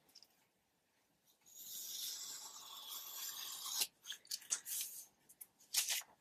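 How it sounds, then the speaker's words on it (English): Paper being cut from an old hymn book: a steady, close rasping slice of blades through a page for a couple of seconds, followed by several short, sharp snips and crinkles, with no talking. "what I'm going to do here is just cut out a page"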